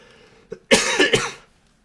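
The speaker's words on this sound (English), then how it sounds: "Still coughing." A short burst of harsh coughing, three quick rough coughs close up, after a small throat sound and then silence.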